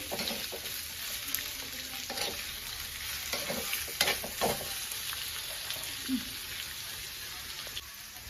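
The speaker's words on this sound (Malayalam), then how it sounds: "ഇനി ഉള്ളി ഒന്ന് ജസ്റ്റ് ഒന്ന് വഴണ്ട് വരട്ടെ" Onions sautéing in hot coconut oil for a squid fry make a constant, moderate sizzle and crackle, broken by occasional scraping and tapping of stirring in the pan.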